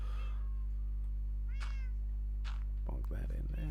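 A cat meows in the Minecraft video game, a couple of short rising-falling calls over a steady low hum, followed by a brief burst of other game noise.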